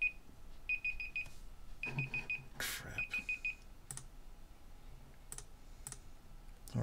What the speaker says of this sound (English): Alright, it's that alarm.